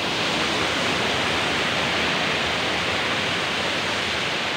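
A waterfall pouring down into a valley, a steady close roar of falling water with an even, unbroken hiss from start to finish and no other sounds standing out.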